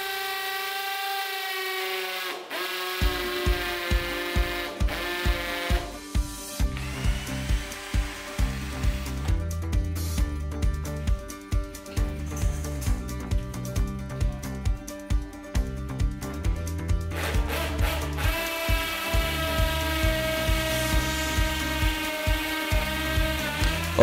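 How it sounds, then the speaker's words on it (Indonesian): A cordless NRT PRO DC340 impact drill bores into a hard wall in impact mode, giving a loud, close, rapid hammering rattle over a motor whine that later settles into a steady high spin. "kita akan coba untuk mengebor tembok yang ini lumayan keras ya teman-teman."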